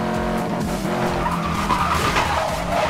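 A car races and skids in Need for Speed Most Wanted (2012), with continuous engine roar and tire screech throughout the short burst.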